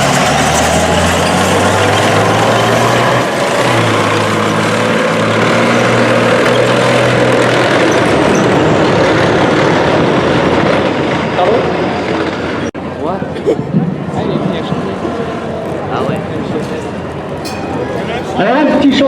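A WWII German Volkswagen Schwimmwagen amphibious car arriving at an armoured vehicle museum demonstration in Saumur: a loud, low engine drone fills the first half, then thins out while someone talks over it.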